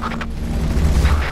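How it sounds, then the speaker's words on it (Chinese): Laser cannon fire from the Earth Defense Force 5 video game, a dense, booming barrage with heavy low rumble and crackling bursts sustained throughout, loud and without pauses. "好，他镭射炮了。"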